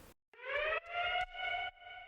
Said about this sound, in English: I also introduced this alarm as a drop impact.